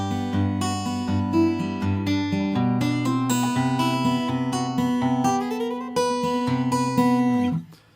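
Acoustic guitar in standard tuning fingerpicks the opening line of a song, a steady flow of plucked notes over a sustained low bass that rings out and stops near the end; no voices.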